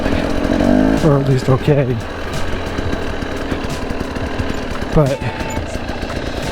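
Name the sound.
2021 Husqvarna TE 300i dirt bike engine revving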